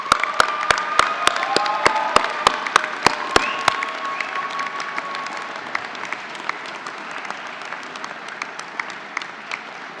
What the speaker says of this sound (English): if you could applaud those who have helped you along the way